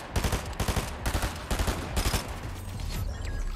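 Rapid video game gunfire in quick repeated bursts of sharp, close shots, tapering into a denser, muddier rattle toward the end.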